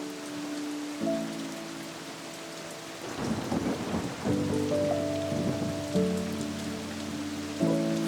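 Rain falls steadily with low rumbles of thunder, heard beneath sustained soft musical tones that swell and change throughout.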